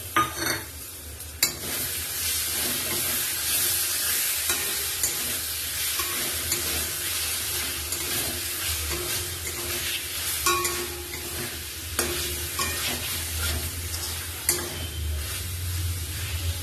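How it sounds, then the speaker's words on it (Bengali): Spices and tomato sauté in a pan for a fish curry, giving a continuous close sizzle with repeated scraping stirs and occasional utensil clinks against the pan. "মশলা কষানো হয়ে গেছে"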